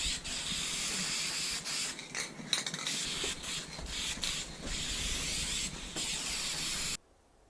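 Rattle-can spray paint hisses steadily onto a rally car's hood, laying down dark silver and silver coats in long continuous bursts with brief pauses, close and fairly loud, stopping abruptly near the end.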